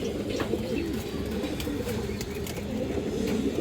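Pigeons coo steadily and close by in a loft or market pen, a low continuous murmur of calls filling the whole stretch with a few brief higher chirps.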